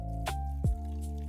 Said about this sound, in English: I am going to water it in, actually drowning this plant in